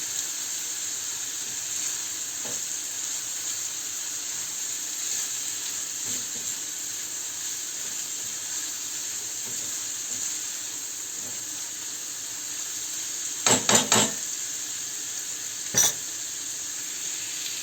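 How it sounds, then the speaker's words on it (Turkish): Ground meat and tomatoes frying in a pan, a steady soft sizzle throughout with a few sharp clinks of a utensil stirring near the end. "güzelce kavurmasını sağlıyorum. Kıymaların, domatesin, bütün malzemeleri."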